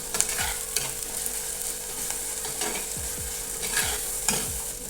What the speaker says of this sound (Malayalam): ഇനി നമുക്ക് ഇതിലേക്ക് ഇഞ്ചി വെളുത്തുള്ളി ചതച്ചത് ഒരു സ്പൂൺ ചേർത്തെടുക്കാം ഇനി കൂടെ വഴറ്റിയെടുക്കാം